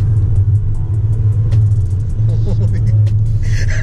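A 2019 Tesla Model 3 electric car accelerates hard from about 30 mph, heard from inside the cabin as a steady loud low road rumble and hum that swells slightly while a voice speaks over it.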